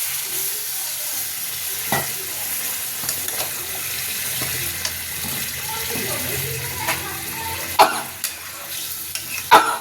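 Pointed gourd, fried potato and prawns are stirred and sizzle in a wok with a little water added, a steady hiss under scraping spatula strokes and sharp clinks near the end.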